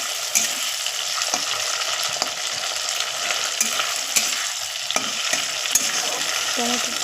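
Ginger, onion and garlic paste with tomato being stirred in a frying pan, a steady sizzle with scraping spoon strokes at irregular intervals, close and moderately loud, no talking.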